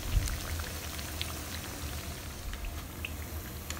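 Rava biscuits frying in hot oil give a soft, steady bubbling with scattered small pops, quiet and close, with no voices.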